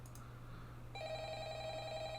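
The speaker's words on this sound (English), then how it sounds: "Oh, the phone!" A telephone rings in a Five Nights at Freddy's style horror video game, its steady electronic bell tone starting about a second in and holding clearly over a low background hum.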